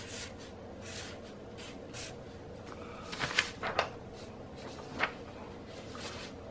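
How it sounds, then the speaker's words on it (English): A felt pen writes a month name on diary paper with soft, short scratchy strokes, quiet and close, with a few slightly louder taps and squeaks partway through. "So then I get a felt pen, and then I write October."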